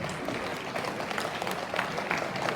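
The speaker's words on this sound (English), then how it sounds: "let's give a resounding round of applause to our Monarch graduates" An audience at a school graduation ceremony claps for the graduates, a dense, even wash of applause filling the short stretch at moderate loudness.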